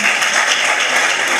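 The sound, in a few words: audience applause for a speaker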